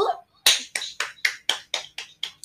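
A classroom round of applause for a student group comes as about eight sharp, close claps in an even, brisk rhythm after a short pause.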